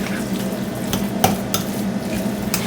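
A whisk works through garlic mashed potatoes in a bowl, giving a steady low churning with a few sharper clicks and taps against the side, close and moderately loud, no talking.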